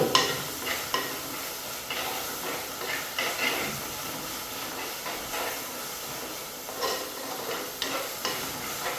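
Green chillies frying in hot oil in a pan for a sardine curry, a dense, steady sizzle and hiss with scraping stir strokes throughout, close and fairly loud, with no talking.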